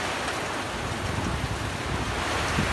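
Strong storm wind during a typhoon signal, a loud, steady roar that fills the whole clip without a break and has no talking over it.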